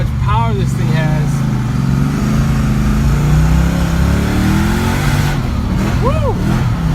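A 1988 Ford Mustang Foxbody with a 5.0L V8 accelerates down an open road, its engine droning loud and close from inside the car, with rising and falling revs and people shouting and cheering over it.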